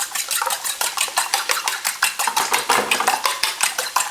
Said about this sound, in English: I'm going to give them a scramble.